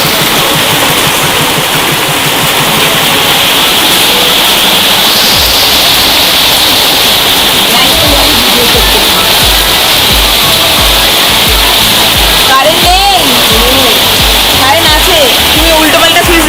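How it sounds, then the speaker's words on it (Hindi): Heavy rain pours down loudly and steadily while floodwater rushes into a house, a dense continuous roar of water that holds throughout and drowns out the other sounds. "बहुत जोर से बारिश हो रहा है, देखिए पूरा पानी आ गया घर के अंदर।"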